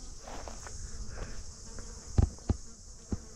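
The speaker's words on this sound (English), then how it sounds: "I think they're blowflies." Blowflies buzzing with a thin, steady drone, accompanied by a few soft thumps and footsteps nearby, at a boat anchorage in Smokehouse Bay.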